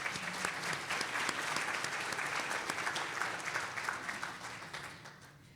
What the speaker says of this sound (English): Please give yourself and your table mates a round of applause